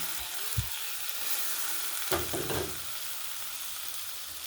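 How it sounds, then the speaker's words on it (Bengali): Mashed flat-bean paste poured into hot oil tempered with black cumin: a faint, steady frying hiss that swells into a brief, louder burst of sizzling partway through, with no voices. "এবার এই ফোড়নের মধ্যে এবার ঢেলে দিচ্ছি"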